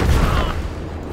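Bombs explode in the Magicka video game, a short loud booming burst that decays quickly into a low rumble.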